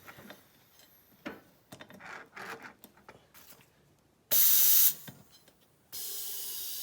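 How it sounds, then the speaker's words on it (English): An air compressor hose inflating a snowblower tire gives two short, loud bursts of hissing air after quieter handling noises. "Enough air in the compressor to air that up."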